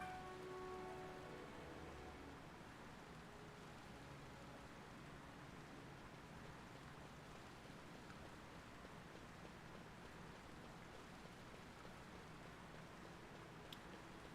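Steady rainfall in Final Fantasy XII, a soft, even hiss of falling drops continuing without pause, faint and distant, with a brief tonal note at the very start.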